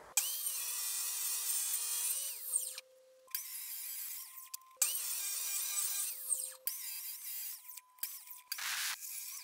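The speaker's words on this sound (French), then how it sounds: "Je vous reprends avec ma scie à onglet pour faire les découpes à 45." Miter saw cutting solid wood at 45 degrees, high motor whine rising as the blade bites, in several bursts separated by short pauses and spin-downs, loud and close with no talking.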